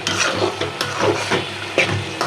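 A small potato sautéing in a pan for a pabda fish curry, giving a dense continuous sizzle with rhythmic scraping stirs close by and no voices.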